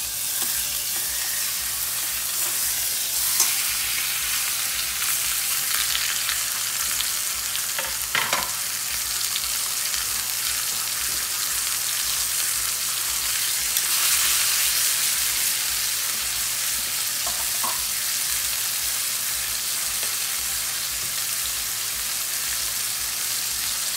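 A T-bone steak sizzles steadily in a frying pan, a loud, close, continuous crackling hiss with a few brief clatters and no speech.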